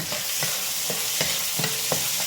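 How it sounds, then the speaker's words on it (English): Onions fry in a hot pan as soy sauce goes in for lo mein, a loud continuous sizzle punctuated by several rhythmic spatula scrapes and stirs. "I'm gonna add a little of this soy sauce to give my onions a little color"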